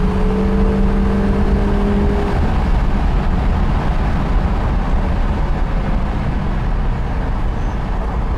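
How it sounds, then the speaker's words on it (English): A 1973 Jensen Interceptor MkII with its 440 V8 accelerating, a loud, steady engine roar that holds close and full throughout with no voices over it. "The 440 is quick to respond, good torque, wonderful sound."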